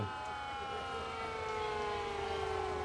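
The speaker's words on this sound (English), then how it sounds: "That's just a cool siren, too." An ambulance siren wails at a distance during a community fair parade, its tones sliding slowly downward over a low rumble of background noise.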